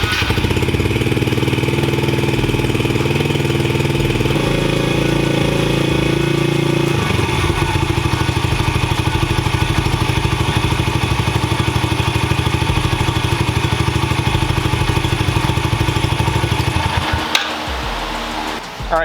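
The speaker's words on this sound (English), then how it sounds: "we're going to run the bike for a minute or two, just to get some of that new oil circulated around the engine" A Yamaha TTR110 dirt bike engine idles steadily and loudly up close for the whole stretch, its even mechanical chugging broken by a brief shift in tone partway through and a short clatter near the end.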